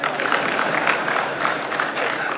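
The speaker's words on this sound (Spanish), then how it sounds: "¿Cómo están aplaudiendo si están agarrados?" A church congregation at a men's convention applauds in a brief, steady patter of clapping, moderately distant, with faint voices mixed in.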